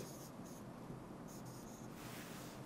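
A marker squeaks across a board in short strokes during a German language lesson, partly buried under steady hiss.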